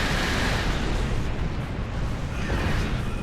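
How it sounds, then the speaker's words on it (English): Explosions rumble through a Star Trek Online space battle, a dense, continuous roar of loud blasts with a deep low-end boom and no clear breaks between them. "The explosions don't hurt me too bad."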